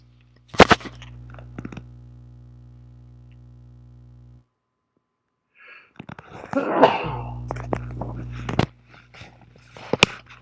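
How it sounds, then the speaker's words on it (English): A single sharp sneeze bursts out near the middle, surrounded by low steady hum, a few clicks and faint breathy noises. "Sorry, I had to sneeze."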